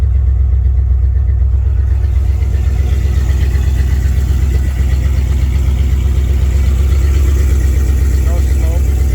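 A 1994 Jeep Grand Cherokee, cold and unused for a month, running loud and steady after a cold start in chilly weather. Its low engine rumble holds evenly throughout, with no separate cranking or revving.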